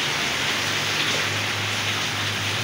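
Steady rain falls on surfaces outdoors in a dense, even hiss, loud and close, with no pauses or other sounds standing out.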